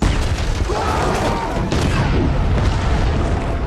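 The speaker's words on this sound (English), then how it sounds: "A huge mushroom cloud swallowed the wooden house. Compared to the earlier landmines, this explosion truly deserved to be called art." A huge explosion, set off like a landmine, destroys a wooden house in a loud, sustained rumbling roar with crackling debris that fills the whole stretch without pause.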